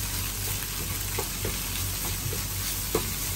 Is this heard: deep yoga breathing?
no